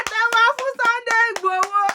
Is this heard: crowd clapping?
yes